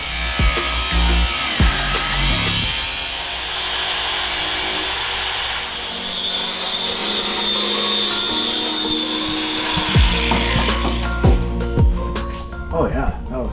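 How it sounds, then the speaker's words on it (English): An angle grinder cuts a small notch into the frame of a C8 Corvette during an LS swap, a loud sustained grinding whine with rough scraping bursts and clanks near the end, voices talking over it. "So we're just gonna grind it just a little bit so it's easier."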